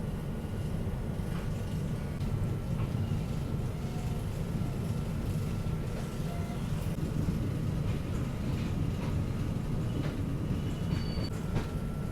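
New Delhi–Patna Tejas Rajdhani Express rolling on after departing New Delhi station, heard from inside a 3rd AC coach: a steady low rumble of wheels on rail with faint clicks and occasional squeals throughout.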